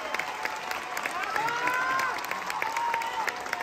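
Audience applause at a theatre premiere of the musical José el Soñador, with steady clapping and cheering from a crowd filling the whole stretch, a few whistles or voices rising over the sustained noise.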